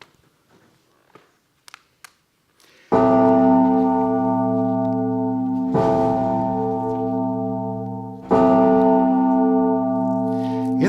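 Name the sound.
tower bell tolling long and slow, a death dirge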